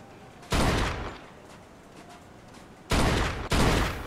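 Gunfire from the video game Mafia, aimed at a car tire: three loud, sharp bursts, one at the start and a close pair near the end, with quiet gaps between.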